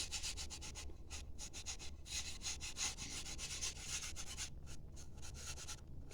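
Sawdust being rubbed by hand into the joints of a wooden piece, a steady close scratchy rubbing with rhythmic strokes throughout, no talking.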